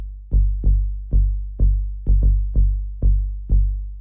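Deep subby bass repeating on one note in a steady pulse of short, booming plucks with fast decay, loud and alone with no voices.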